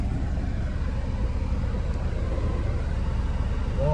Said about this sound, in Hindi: और उसके पीछे ना ट्रैक्टर ट्रॉली भाग के जा रही है